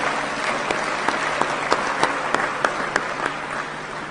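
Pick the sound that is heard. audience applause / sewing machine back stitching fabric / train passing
audience applause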